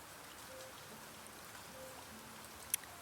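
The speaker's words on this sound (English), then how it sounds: "It is raining" Steady soft rainfall in a wildlife survival game, a faint even patter continuing throughout with one small sharp drip near the end.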